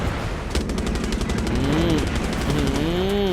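Rapid machine-gun fire in Far Cry 6 as the player takes hits during a tank fight, a sustained fast rattling burst that is loud and close, with a voice talking over it.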